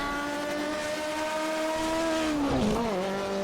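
Loud, sustained whine of an Alfa Romeo 155Ti race car engine at high revs, heard from inside the car at Bathurst, holding steady, then dipping briefly as it shifts and climbs again.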